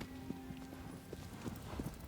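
Horse hooves clip-clop in a video game, a quiet, irregular series of soft knocking steps over a low steady background.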